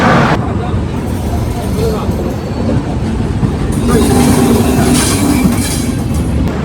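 Pondicherry Howrah SF Express train pulling out of Tirupati station in the evening, a steady loud rumble of wheels and carriages with faint clatter throughout, a voice speaking over it.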